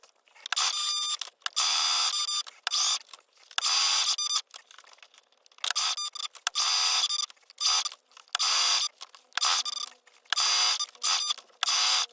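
A sewing machine stitches a gusher pad in repeated bursts of fast mechanical whirring, each lasting about a second with short pauses between as the pad is turned, close and loud with no talking.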